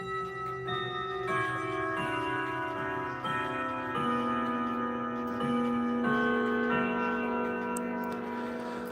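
A triple chime clock in a chime and grandfather clock style ticks steadily and alone, with sustained ringing chime tones layered over the even tick rhythm, close and moderately quiet.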